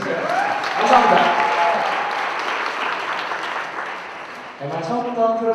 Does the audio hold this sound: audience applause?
yes